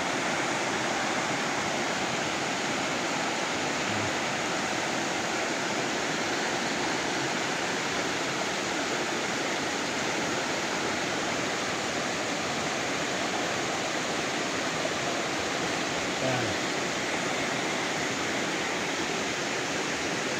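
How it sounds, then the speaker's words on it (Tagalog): Rushing water near Mount Isarog in Camarines Sur, Philippines: a steady, dense roar of flowing water that holds even and loud throughout, with no voices. "Wakas-was ng tubig ang naririnig nyo."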